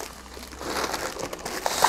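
A large package handled up close, giving dense crinkling and crumpling of plastic or paper wrapping that builds in loudness and continues throughout, with no talking.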